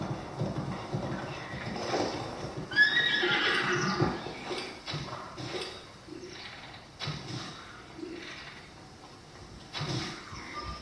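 A horse in The Legend of Zelda: Breath of the Wild whinnies loudly with a rising, shaky neigh, while hooves clip-clop at a walking pace throughout, moderately close and with no talking over it.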